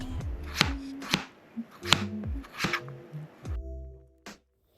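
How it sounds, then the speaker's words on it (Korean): A knife chops boiled chicken meat, just lifted from the broth, into bite-sized pieces on a cutting board, making sharp, close thuds at an uneven pace, about eight cuts with short pauses between them, and no talking. "육수에서 고기만 건져내서 먹을 크기로 먼저 잘라줍니다"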